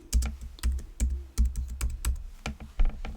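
Fingers tap rapidly on a computer keyboard, a close, crisp run of uneven clicks and clacks with no voices.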